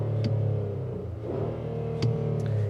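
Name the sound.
Infiniti QX60 V6 engine starting up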